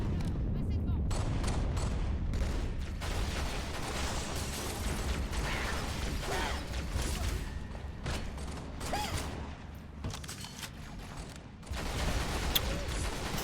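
Rapid weapon fire in a modded Halo game, a steady stream of fast shots mixed with mechanical clatter and bursts, while someone talks over it.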